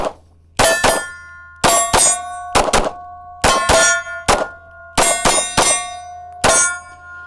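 A PSA Micro Dagger pistol fires around fourteen rapid shots, often in quick pairs, each a sharp crack followed by a bright metallic ringing that decays between bursts, with no voices.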